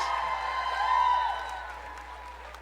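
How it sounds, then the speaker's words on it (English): Audience applause for a drummer at a Black performing arts showcase in Ottawa, a soft, distant wash of clapping that slowly fades under a lingering tonal hum. "Give him a big round of applause."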